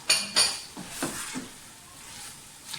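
Boiled potatoes and mongray are fried together in a pan, giving a soft sizzle with a few sharp clinks of a utensil against the pan near the start.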